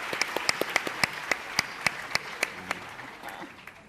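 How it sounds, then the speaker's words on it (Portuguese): An audience at the Flip 2015 literary festival applauds Machado with a crisp, steady round of clapping, individual sharp claps standing out near the front before the applause fades slightly toward the end. "Palmas para o Machado."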